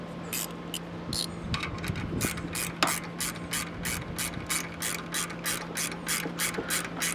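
A hand ratchet tightens a valve spring compressor on a 1999–2004 Mustang GT engine during valve stem seal replacement, giving a fast, even run of close, crisp clicks over a faint background hum.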